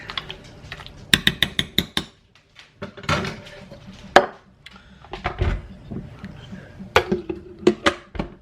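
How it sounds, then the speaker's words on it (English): A spoon stirs cold leftover baked beans and weenies in a bowl, giving clustered clacks and scrapes in uneven bursts with short pauses between them. "So I'm just going to mix everything well."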